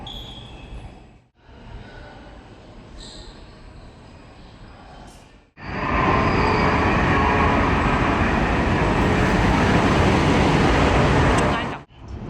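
A Guangzhou–Shenzhen intercity train runs with a loud, steady rushing rumble that swells in around the middle and holds for about six seconds, preceded by a quieter hum of the carriage.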